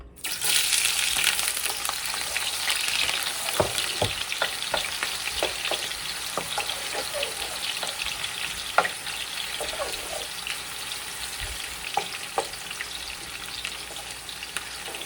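Onion sizzling and frying in a pan while spinach is being cooked, with a steady broadband crackle and scattered clicks of stirring and utensil taps throughout, no talking.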